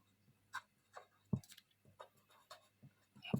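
Pen writing on paper while working a math problem, heard as a series of short, close scratching strokes in bursts with pauses between them, no talking.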